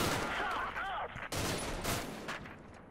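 Gunfire from the modern-warfare strategy game Combat Mission Black Sea: a dense burst of overlapping shots and rattling fire early on, then scattered sharp reports, with a faint voice underneath.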